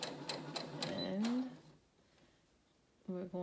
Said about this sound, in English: now I think it's ready to sew. And it sews on its own and it keeps a straight stitch